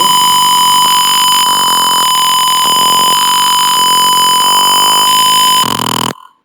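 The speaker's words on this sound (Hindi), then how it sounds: "अभी आपने देखा कि कितना तेज ये बजर बोल रहा है।" Ultrasonic sensor car parking system buzzer sounding a loud, steady electronic tone for about six seconds, its pitch shifting slightly in steps before it cuts off abruptly.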